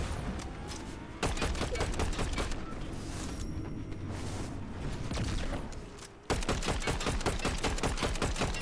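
Gunfire in the video game Fortnite, played in Zero Build mode: rapid bursts of shots crackle in quick runs, with a short pause in the middle, then another dense volley near the end.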